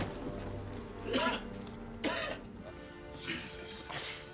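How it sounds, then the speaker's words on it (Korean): A faint cough from a barely alive victim in a dim room in the film Se7en, two or three short rough bursts spaced over a few seconds against low background noise and a murmur of voices. "살아있다고 보기 어려워 보이는 그 사람은 기침 소리로 자신이 생존해 있음을 알리죠"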